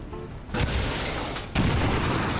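Gunfire in the XCOM 2 video game: two heavy, booming shots about a second apart, each a loud broadband burst that lingers, with no talk over them.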